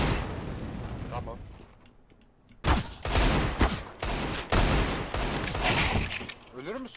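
Gunfire in a first-person shooter video game comes as loud bursts of rapid shots and booms after a quieter stretch, close and dense, with players talking over it.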